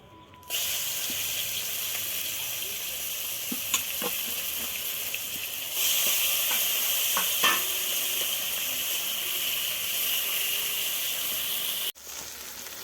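Prawns fry in oil in a pan for chingri malai curry, giving a steady bright sizzle with occasional pops and crackles, growing louder midway, close and continuous before cutting off abruptly near the end.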